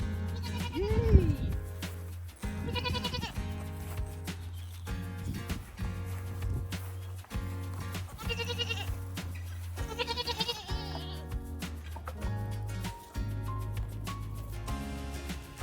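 Several goats bleat loudly in a field as they are let back in, wavering cries repeating on and off over a steady low rumble, with a person's calls and encouragement between them.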